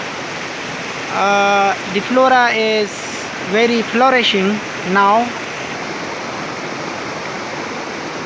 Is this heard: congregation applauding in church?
no